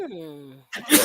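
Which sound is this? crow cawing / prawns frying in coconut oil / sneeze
sneeze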